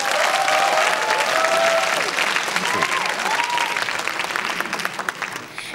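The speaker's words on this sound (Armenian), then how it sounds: "Ծափարենք Անի Պետրոսյան" A studio audience at a televised singing gala applauds loudly and steadily, then slowly thins out, and a voice speaks over the clapping.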